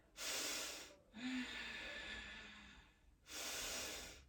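Deep breaths during a yoga class, heard as two long broadband inhale-exhale swells with a softer breath between them, close and clear with no talking.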